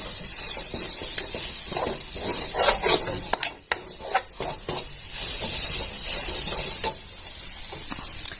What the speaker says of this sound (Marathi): कढीपत्ता भरपूर घालायचा कढीपत्ता चांगला असतो खायला छान असं परतून घ्यायचे आपल्याला